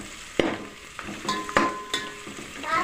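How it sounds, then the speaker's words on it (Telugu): Onions fry in a pan for Hyderabadi bagara rice, giving a soft sizzle broken by several sharp clinks and scrapes of stirring, close and without talk. "ఉల్లిగడ్డ మగ్గే వరకు వేగనియ్యాలి"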